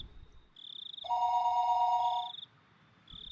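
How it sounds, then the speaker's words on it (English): A telephone rings in the Higurashi visual novel: a clean electronic ring tone bursts loudly for about a second, set between quieter high chirping trills that resemble a ringing bell, with no voices. "the phone began to ring again"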